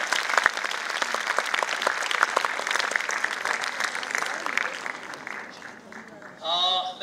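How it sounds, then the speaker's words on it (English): A quiz competition audience applauds the runner-up of a regional final, dense steady clapping filling the room for several seconds before fading, with a voice briefly speaking near the end. "Put your hands together."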